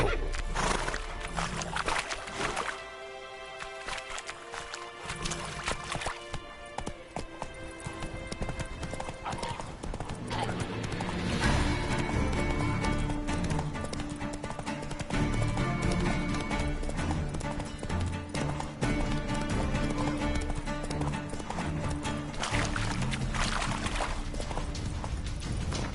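Roach the horse galloping in a video game, rapid continuous hoofbeats under layered game music and effects, with a brief whinny and a voice speaking over it.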